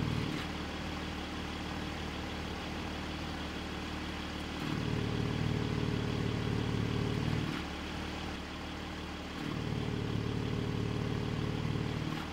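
Porsche GT4 flat-six idling with exhaust valves switched by a Track Nanny controller; a steady low rumble that swells louder twice as the valves open, then settles back, with no talking.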